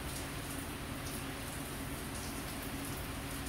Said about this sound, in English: Dang, it's raining hard outside.